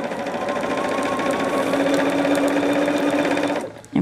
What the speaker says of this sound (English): And we're just going to sew this on up at that 1/4 inch.